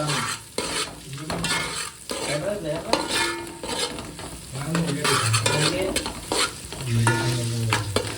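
Fried rice with curry leaves sizzles in a hot pan while a utensil stirs and scrapes it repeatedly in an uneven rhythm, close and moderately loud, with no talking.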